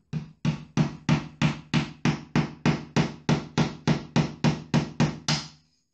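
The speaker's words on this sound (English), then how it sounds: "And with a hammer," A hammer drives a sharpened wooden peg into a screw hole in an MDF door with about fifteen sharp, evenly spaced knocks, close and loud.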